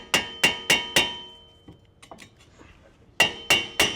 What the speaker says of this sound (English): Grab a sledgehammer and just tap around this so you can free up the rotor